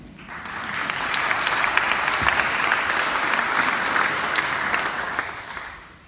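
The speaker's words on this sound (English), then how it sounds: "Please give yourself just a short round of applause" A conference audience at a food summit in Copenhagen gives a short, steady round of applause, dense clapping swelling in over the first second, holding evenly, then tapering off at the end with no talk over it.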